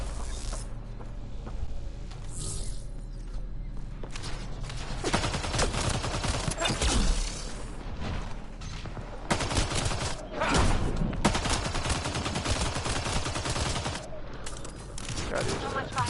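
Gunfire in the video game Mass Effect: Andromeda, with dense bursts of automatic weapon fire and scattered shots running throughout over a constant combat soundscape, with people talking at times.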